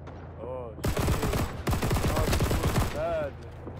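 A Lahti-Saloranta M/26 light machine gun fires long, rapid bursts in a Winter War mod of a shooter game, loud and close, with a short gap between two sustained volleys and quiet hum before and after.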